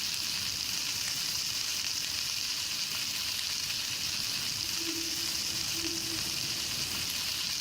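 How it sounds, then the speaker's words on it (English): Food sizzles on a cooking station in the Palworld game, a constant dense crackling hiss that stays loud and even throughout, with a faint low hum appearing briefly near the end. "I feel like this sizzle's a little loud."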